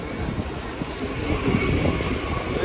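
A steady, rumbling train rolls along continuously, with a low clattering drone and a faint high whine throughout.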